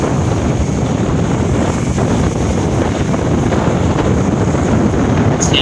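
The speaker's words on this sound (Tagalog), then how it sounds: "Lakas ng alon guys, oh." Strong sea waves churn with gusting wind during a typhoon on the coast at Ozamiz, a loud, constant roar of surf and wind buffeting the microphone with no break.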